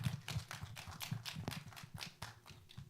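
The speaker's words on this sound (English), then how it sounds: "let's give a round of applause to Talia and to our 4 panelists" Audience applause for the panelists at an art school open house photography and video presentation, a steady wash of many hands clapping at moderate distance, continuous for a few seconds without a clear end.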